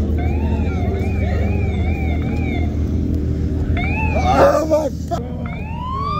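Police siren wailing loudly and close, cycling up and down over the rumble of idling engines at a car meet, switching to a faster yelp near the end while a man exclaims under it.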